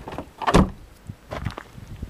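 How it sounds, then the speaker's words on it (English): The door of a 1992 Stuttgart-built car in a junkyard is swung shut with one solid thud, followed by lighter rattling knocks as it settles, heard close up with no talk. "Junk, look how that door closes."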